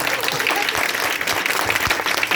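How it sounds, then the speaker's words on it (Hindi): A crowd claps loudly and continuously, a dense, steady round of applause from an audience in a hall. "जोरदार तालियां"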